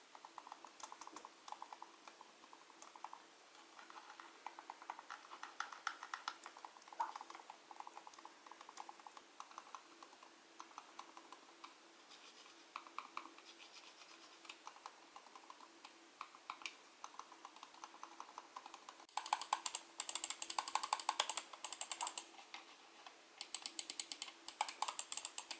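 Mouse buttons are clicked in long repeated runs, comparing a ProLink silent mouse, a Logitech silent mouse and an ordinary desktop mouse; most clicks are soft and muted, with a louder, sharper clicking stretch near the end.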